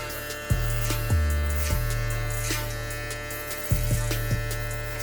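An electric hair clipper fitted with a one guard, lever closed, buzzes steadily while cutting hair during a fade, with a sharp click and surge in the buzz each time the blade meets the hair.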